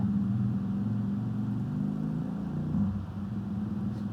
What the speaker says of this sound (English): Let's wait for this bike to go